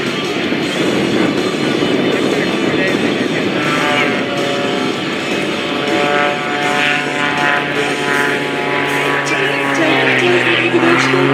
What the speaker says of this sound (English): An airplane designed to pull and push 16 Gs, and he's using a lot of that today.